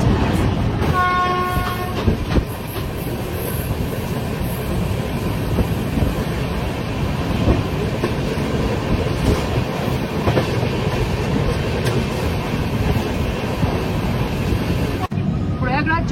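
Poorva Express train running over a newly built bridge on the route toward Prayagraj Junction, with a steady, loud rumble of wheels and carriages, a brief horn near the start and a speaking voice.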